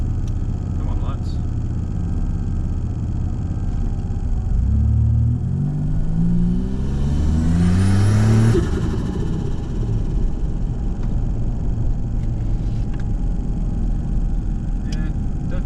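Stock turbocharged Ecotec V6 car engine with a new turbo kit, droning steadily and then rising through a sweeping rev that peaks and drops back to a rumble, heard from inside the car with talk over it.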